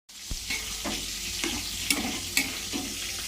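Drumstick flowers cooking in mustard oil sizzle steadily in a pan while a spoon stirs them, with a few clear scraping knocks spaced through the steady frying hiss.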